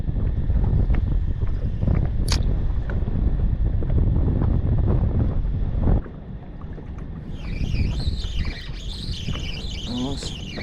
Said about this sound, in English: trying to cast in this wind's pretty terrible